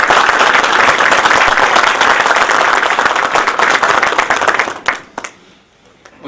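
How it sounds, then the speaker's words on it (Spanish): A conference audience gives a loud, sustained burst of applause to welcome a speaker, the dense clapping fading out after about five seconds into a few scattered late claps and near silence. "ayúdenme a recibirlo con un fuerte aplauso"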